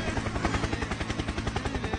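Rapid rhythmic thumping of helicopter rotor blades in a Roblox game, a steady chopping pulse throughout, moderately loud.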